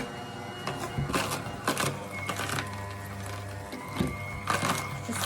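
An Amzchef electric food chopper drives its blades through hard carrot: a steady motor hum broken by repeated rattling, clattering bursts of pieces hitting the bowl, close and fairly loud.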